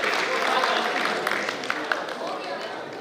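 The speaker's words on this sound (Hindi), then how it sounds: "एक बार तालियां बजा करके आमंत्रित" An assembly at a Jain community gathering claps to welcome an invited member, with a continuous wash of applause from many hands that gradually eases off, a few sharper claps standing out.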